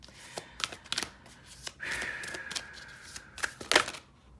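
Tarot cards being shuffled by hand to pull another card: a run of quick, crisp riffling snaps and soft paper rustles, close and fairly quiet, with a brief bright slide partway through and no talking.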